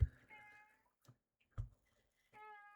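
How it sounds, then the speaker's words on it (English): A house cat meows a few times nearby, short separate calls with pauses between them, alongside a couple of soft bumps, with no one speaking. "And you also get to hear my cat in the background."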